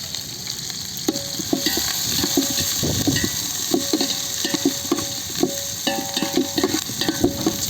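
Shallots, green chilies, curry leaves and vadagam sauté in a pan for a mackerel curry. They give a steady, close sizzle with repeated spoon clinks and stirring taps against the pan.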